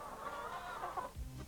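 Laying hens cluck and murmur in a dense, continuous chorus inside an industrial poultry barn holding 12,000 birds, with a few louder clucks standing out near the end.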